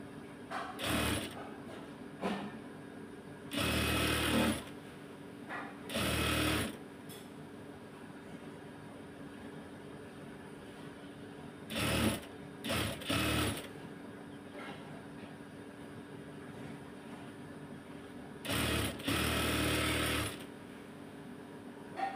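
Sewing machine stitching a shirt seam in short bursts, several loud whirring runs of a few seconds each separated by quieter gaps, close up with no talking.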